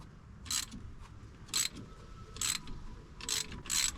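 Bolts being tightened on a crank pulley puller fitted to a Nissan 300ZX twin turbo engine, giving five separate bright ratcheting bursts, each under a second long, spaced evenly and heard close up with no voices.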